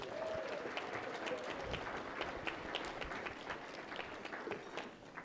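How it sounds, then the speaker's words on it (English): Faint, steady applause from a crowd at a speech event, a dense patter of clapping that continues throughout. "Give yourself a round of applause."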